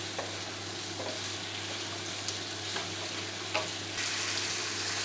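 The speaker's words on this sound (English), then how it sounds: "I stir fry now, become a little bit soft" Vegetables stir frying in a wok, a continuous dense hiss of frying with occasional light taps and scrapes of the spatula, a low steady hum underneath, close and even throughout.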